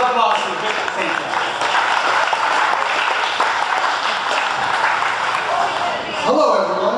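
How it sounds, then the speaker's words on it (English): Loud, sustained applause from an audience at a Republican fundraiser in Homer Township, filling the room for about six seconds as a speaker is welcomed, with voices mixed in and talk starting near the end. "Give a loud applause for Victor Santana."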